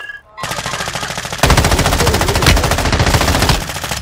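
Sustained machine gun fire blasts in a first-person shooter game, a loud rapid rhythmic stream of shots that grows heavier midway and then cuts off near the end.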